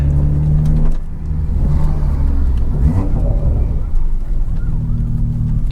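BMW 340i engine intake under acceleration, a steady loud low rumble and whir that swells and builds continuously from inside the car, with brief muffled talk mixed in.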